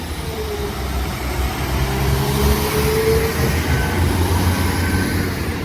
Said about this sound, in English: Train now departing is a double 195 going to Manchester,